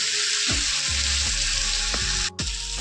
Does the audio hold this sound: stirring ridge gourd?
yes